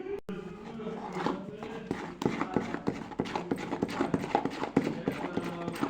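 A spoon churns curd into butter at home: a rapid run of uneven clacking and sloshing strokes, close and fairly busy, with quiet background noise.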